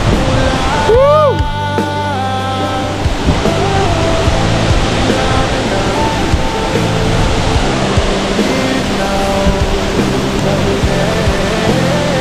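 Broad, constant roar of rushing water from Miyamit Falls in Porac, Pampanga, Philippines fills the clip, with a brief whistle or shout near the start and faint voices underneath.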